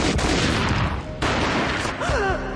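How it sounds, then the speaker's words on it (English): A rapid burst of gunfire in the Max Payne mobile video game, loud and close, with sharp repeated shots followed by a second volley and a sliding tonal sound. "A gunshot boomed and she fell down in slow motion."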